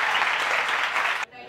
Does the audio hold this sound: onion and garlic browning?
no